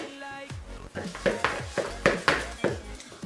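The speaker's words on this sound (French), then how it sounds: "Allez, je mélange." Cookie dough is mixed in a bowl with a utensil, giving a series of close, irregular knocks and scrapes roughly every few tenths of a second. A voice talks over the clatter.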